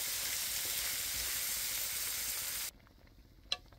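Pork with garlic, onion and ginger sizzles loudly in a pan, a bright, continuous hiss that cuts off abruptly near the end, followed by a single clink.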